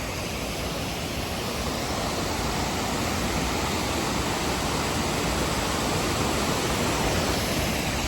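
Waterfall on the Beacon Rock hike roaring as a loud, unbroken wash of falling water, close and steady for the entire stretch with no voices.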